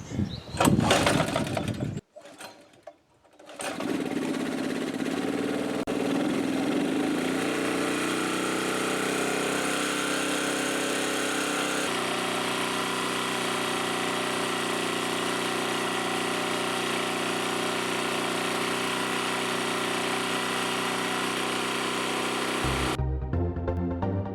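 A petrol engine with its HHO kit disconnected cranks through a couple of short, stuttering attempts, then catches and settles into a loud, steady, continuous idle that runs for about twenty seconds before cutting off abruptly.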